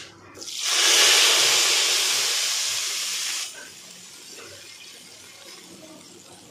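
Hot oil tadka poured onto beef nihari korma in a pressure cooker bursts into a loud sizzling hiss, holds for a few seconds, then drops abruptly to a faint crackle.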